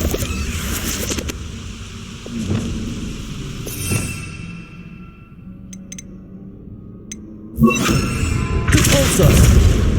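A Confringo fire-explosion spell from the video game Hogwarts Legacy lands as a loud, close boom with a thudding burst, and a second blast rumbles in later over steady game ambience.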